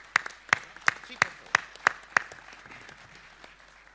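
A few hands clap at a regional governors' dialogue session, seven sharp, evenly spaced claps standing out over a quiet room before fading into faint murmur.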